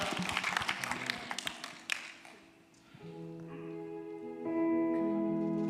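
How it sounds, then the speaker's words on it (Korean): A Korean Presbyterian congregation applauds at its founding Sunday worship service, a burst of scattered clapping for about two seconds that fades as sustained keyboard or organ tones take over. "우리 주님께 감사와 영광의 박수를 올려드리겠습니다"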